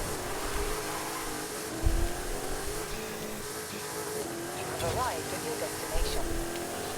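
A Dodge Coronet Super Bee lapping a track in Forza Horizon 5, its engine a steady droning hum that rises and falls faintly under continuous talking.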